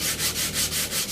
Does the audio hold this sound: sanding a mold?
yes